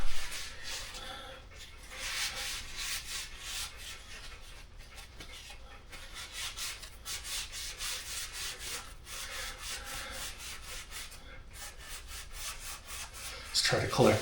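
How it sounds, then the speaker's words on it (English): Oily rag rubbed briskly over a steel spring from a 2024 KTM 500 EXC-F, making repeated close scrubbing and swishing strokes in a steady rhythm that continues throughout. "get some oil on my hands here and rub this other spring down"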